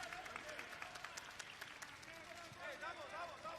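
A basketball arena crowd of about four thousand at a B.League quarter-final, mostly backing the Ryukyu Golden Kings against the Toyama Grouses, claps and cheers in a steady distant roar beneath a commentator's voice.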